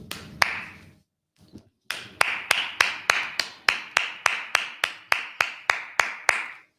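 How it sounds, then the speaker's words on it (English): A congregation at a Sabbath service claps together in a steady beat. After a brief pause, about fifteen crisp, evenly spaced unison claps follow, with no talking. "Clap it up."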